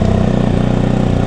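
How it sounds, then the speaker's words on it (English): A motorcycle engine running at a steady idle just after starting, a close, even low rumble with a regular pulsing beat throughout. "I'll pop the engine on."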